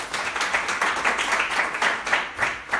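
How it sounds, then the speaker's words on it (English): Audience applause for a panel of speakers at a talk on bipolar disorder, steady rippling claps from a modest crowd, fairly close and continuous for about three seconds with no talking over it. "Can we just give a round of applause to them?"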